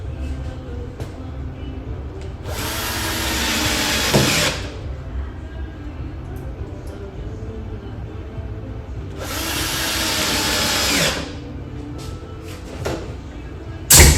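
Power drill driving a couple of screws into a face frame, two sustained bursts of whirring with a clamp-rattle click between, fairly close with no talk.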